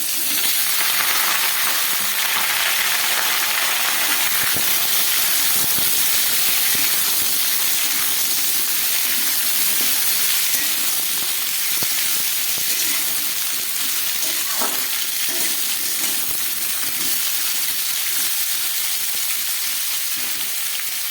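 Chopped papaya and potato dropped into hot tempered oil, a loud continuous hissing sizzle that fills the whole stretch with faint clatters of stirring and no talk.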